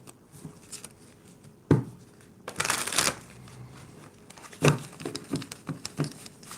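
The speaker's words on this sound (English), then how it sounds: "I'll do a shuffle" A deck of reading cards is shuffled by hand in a quiet room, giving papery riffles and soft slaps in several bursts with brief pauses between.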